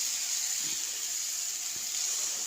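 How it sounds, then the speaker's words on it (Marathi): About a glass of water is poured into a pan of whole masoor lentils fried in oil, a steady, even hiss of liquid throughout with no talk. "आता ह्याच्यामध्ये आपल्याला थोडंसं पाणी टाकून घ्यायचं आहे."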